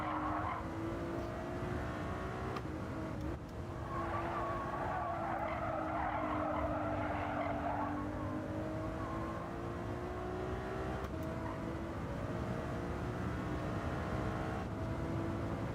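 A Ferrari race car in Gran Turismo 7 drives hard with a steady, loud engine drone and sliding tire squeal swelling midway, continuous and close, without any talking.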